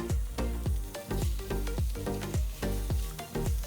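Shrimp searing in hot oil in a frying pan, a steady sizzle broken by repeated rhythmic clunks and scrapes, close and moderately loud without any talking.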